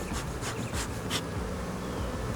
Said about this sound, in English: Bees, this is a hot hive.